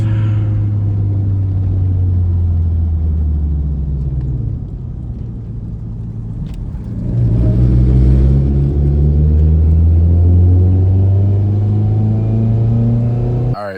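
A Nissan 240SX driving, its engine rumbling steadily and loud, easing off and then picking back up as the car slows, with no talk over it.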